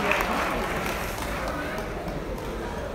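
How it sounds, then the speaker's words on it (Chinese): Wedding dinner guests applaud together in a banquet hall, a steady sustained clapping that fills the room with a continuous mid-loud texture, with voices mixed in underneath. "请大家把掌声献给自己好不好？"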